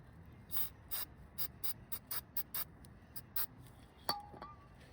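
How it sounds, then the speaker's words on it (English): Carb cleaner is sprayed onto a new oxygen sensor for a Nissan Sentra 2.0L in a quick series of short, close hissing spurts with uneven rhythm, followed by a faint metallic clink. "For the new sensor, we'll hit it with some carb cleaner."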